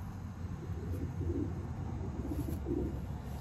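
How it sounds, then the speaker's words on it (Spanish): A pigeon coos softly in a loft, low murmuring coos repeating a few times over a steady background hum. "El palomo aquí."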